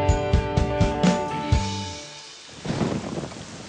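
Heavy rain pours with rumbles of thunder, a few sharp thuds early on and then a wash of downpour noise.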